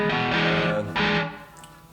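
An electric guitar runs through a Brelliott Deluxe TODP valve overdrive pedal set to 47k load mode, giving a bluesy, harmonically rich drive. Sustained distorted chords ring loud, dip briefly, strike again, then decay toward the end.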